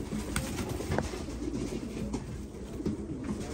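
Kakite pigeons coo softly and low, a faint murmur of dove calls over a steady background hum, with a few brief knocks and no talking.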